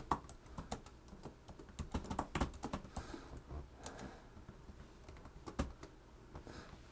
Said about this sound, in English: I'm just typing some text and click add.